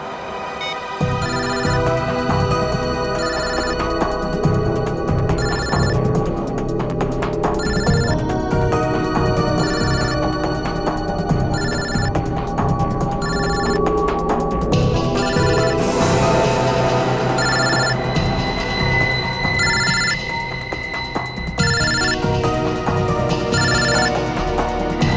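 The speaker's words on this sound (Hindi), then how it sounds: "दिव्या का फोन तो यही कहीं बज रहा" A mobile phone rings out loudly with a repeating electronic ringtone melody, bright beeping tones cycling in a steady pattern over a musical backing for the whole stretch.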